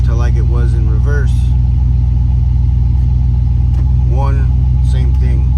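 A 2000 Chevrolet Silverado fitted with an aftermarket camshaft idles in gear with a steady, loud low rumble and a choppy lope throughout, while someone talks over it.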